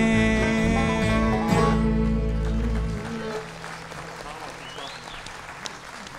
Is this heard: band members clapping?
yes